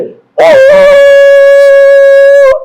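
A single voice imitates a conch shell being blown, holding one loud, steady, horn-like tone for about two seconds after a brief breathy start, then cutting off abruptly.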